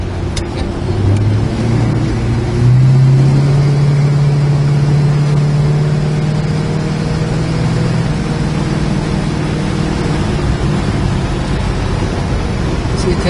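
A 1970 Dodge Coronet R/T runs with a loud, steady engine drone, its pitch rising around a gear shift and then settling into a constant cruising rumble, with road and wind noise throughout.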